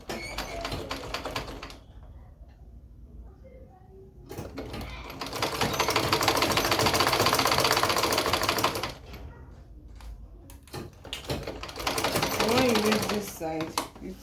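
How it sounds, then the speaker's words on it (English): A sewing machine stitches a welt pocket in two loud, steady runs of rapid mechanical clatter, close by, separated by quieter pauses. "So now let's take it to our sewing machine."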